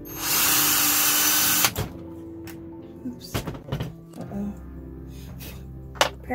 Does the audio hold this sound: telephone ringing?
no